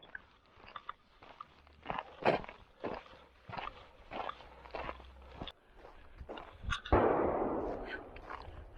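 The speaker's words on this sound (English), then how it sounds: "There's gunshots or something going on right over there. It's got to be gunshots." Distant gunshots from a rifle range heard on the Colorado Trail between Denver and Breckenridge, a series of faint cracks spread across the clip under nearby footsteps and rustling on the trail.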